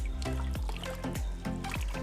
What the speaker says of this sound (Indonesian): kita siram guyur aglo kita dengan ini ya